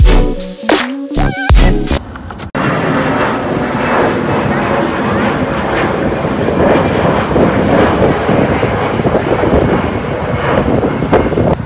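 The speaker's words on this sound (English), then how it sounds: "You can definitely hear the planes" A steady low roar of unseen aircraft engines drones on overhead outside an IKEA, with wind buffeting the microphone; brief loud voices and clatter open the recording.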